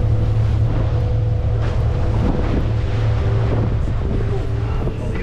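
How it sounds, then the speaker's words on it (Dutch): Pilot tender boat heading out to a ship off Rotterdam in rough, stormy seas: a loud, steady engine drone with a low hum, and wind buffeting and water rushing against the hull. "Wij stappen aan boord van de tender en gaan richting het schip die we de haven in moeten loodsen."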